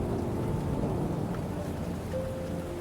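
Heavy rain pours steadily with a deep, rolling rumble of thunder underneath, dense and close from start to finish without any speech.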